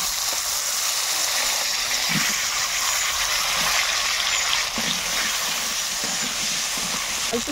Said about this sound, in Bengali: এবার এই তেলেই আলুগুলো ভেজে নেব,